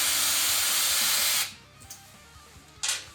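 A power screwdriver whirs steadily, close and loud, for a second and a half while removing the single screw holding the key shutter on a Yamaha C3 scooter, then stops, followed by faint clicks and a brief hiss.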